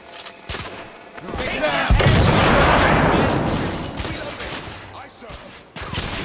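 Sustained gunfire from The Order: 1886 video game, a dense roar of shots rising after a moment and holding through the middle, with short shouted voices near the start and end.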